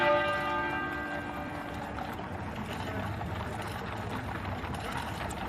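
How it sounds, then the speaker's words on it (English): The great tenor bell of Westminster Abbey tolling, a single deep strike at the start with a long humming decay fading under steady outdoor crowd and street noise. "the great tenor bell at Westminster Abbey began to toll"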